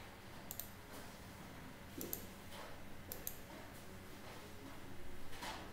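Several quiet mouse clicks spaced a second or so apart, the last two close together, while a pivot table is built in a spreadsheet, over a faint steady room hum.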